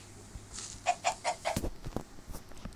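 A chicken in the video game Minecraft gives a quick series of four or five clucks, followed by a few sharper clicks and taps, fairly close and fairly faint.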